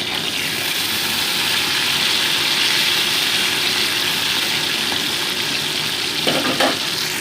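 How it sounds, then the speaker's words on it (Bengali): Amudi fish fry in hot oil in a wok, a loud, continuous broadband hiss and bubbling sizzle heard close up without talk, with a brief clatter near the end. "মাছগুলো উল্টে পাল্টে আমি ভেজে নিচ্ছি।"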